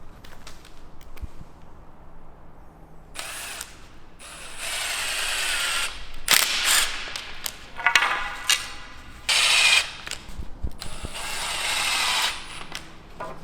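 A power screwdriver drives screws into a wooden chalet door frame, several whirring bursts of a few seconds each separated by short pauses and clicks, close and fairly loud.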